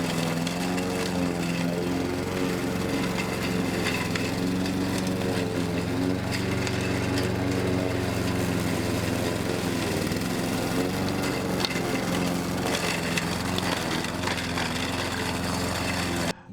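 A lawn mower runs steadily over a garden growing bed, its loud engine droning close and continuous with no break.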